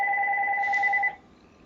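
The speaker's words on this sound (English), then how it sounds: "There goes my phone." A phone rings with a steady two-tone electronic trill for about a second and then stops, loud and close in a quiet room.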